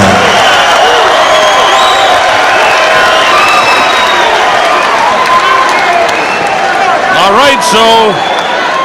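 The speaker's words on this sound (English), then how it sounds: "The crowd is in a frenzy" A packed boxing arena crowd in Auckland roars and cheers continuously before a heavyweight bout, with whistles and shouts rising above the loud, sustained din and a voice talking over it.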